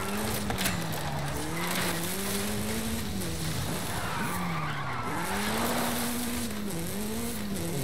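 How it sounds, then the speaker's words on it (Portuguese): A car sliding under handbrake in the video game Forza Horizon 5, with loud continuous tire squeal and a wavering engine drone throughout. "frear com freio de mão aqui. Pra fazer o carro derrapar."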